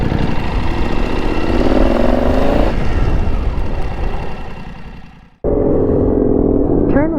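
Motorcycles cruise on an open road between Denver and Cortez, with a steady close engine drone and rushing wind. The drone fades out, then returns abruptly, with a brief rising rev near the end.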